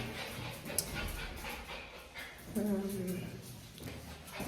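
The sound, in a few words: dog being taken for a walk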